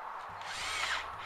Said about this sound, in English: We can now screw all the battens to the cross battens, starting in the centre